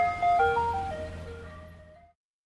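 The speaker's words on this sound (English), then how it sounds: "Ice cream truck." A short, bright ice cream truck jingle from a kids' video game plays a quick chime-like melody, then fades out over about two seconds, with no voices.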